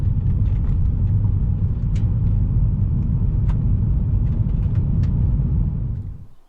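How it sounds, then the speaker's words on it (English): A BMW E46 driving on the road, its steady low engine and road rumble loud and close inside the cabin, with a few faint clicks over it, then fading out at the end. "We'll go for a quick drive and see what she looks like."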